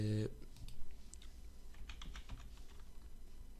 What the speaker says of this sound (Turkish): şöyle BlueStacks yazıyorum